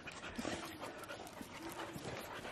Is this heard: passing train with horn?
no